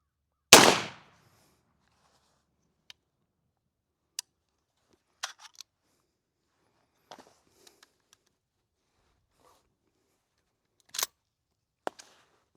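A rifle fitted with an adjustable gas block set to the closed position fires a single loud, sharp gunshot that decays quickly outdoors, followed by sparse faint clicks and small handling noises.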